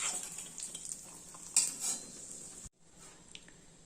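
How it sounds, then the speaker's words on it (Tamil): Samba wheat semolina roasts in a pan with ghee-fried cashews and raisins for wheat suji kesari, giving a soft sizzle with scraping spoon-on-metal stirring that cuts off abruptly, leaving a quieter faint hiss, with no voices. "இந்த சம்பாராவே இதில் வறுத்துக்கலாம். கொஞ்சம் சிம்மில் வச்சு ஒரு 5 நிமிஷம் நல்லா வறுப்போம்."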